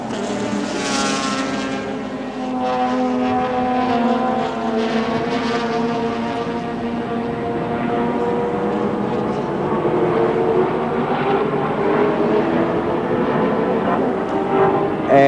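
A Group C touring car, a Nissan Bluebird Turbo, races at the 1984 Australian Touring Car Championship round in Adelaide, its engine drone steady and loud, slowly rising in pitch for the whole stretch.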